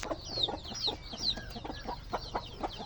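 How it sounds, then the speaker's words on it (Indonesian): Newly hatched chicks cluck and peep faintly, with soft rapid chirps and short calls repeating in a quick, uneven patter. "Ini contoh dari anakan ayam yang menetas dari telurnya."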